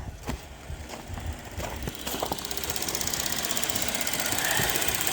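A 2015 Chevy Traverse with the 3.6L V6 runs with a misfire under load, giving a close, steady engine drone broken by sharp, irregular knocking ticks that grow slightly louder over a few seconds.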